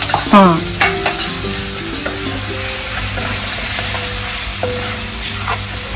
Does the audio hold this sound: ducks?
no